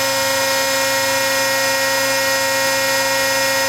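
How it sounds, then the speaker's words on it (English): A 712-ton hydraulic press runs with a loud, steady tonal whine and hum, holding constant without breaks. "when it times out, the press will open"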